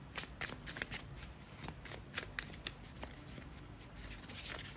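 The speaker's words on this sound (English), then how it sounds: "You saw me shuffle this card" Tarot cards are shuffled by hand in a quick, riffling series of soft flicks and slaps, close up and fairly quiet, with no one speaking.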